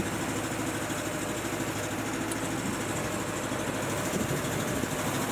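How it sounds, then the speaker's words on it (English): A Honda engine powers a sealant sprayer's air compressor, droning in a steady, close, unbroken rumble with no voices. "We've got the Honda engine running."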